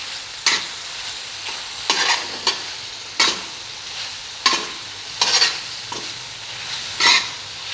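Liver (kaleji) frying with spices on a tawa: a steady sizzle broken by repeated scraping stirs roughly every second, close and fairly loud, with no talking.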